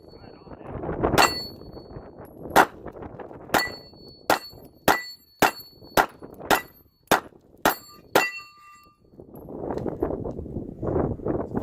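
Roughly ten sharp shots from a Glock G45 pistol ring off steel targets, each crack followed by a bright metallic ping, spaced in a steady rhythm, with people talking quietly before and after.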